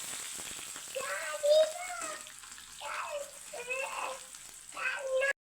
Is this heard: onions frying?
yes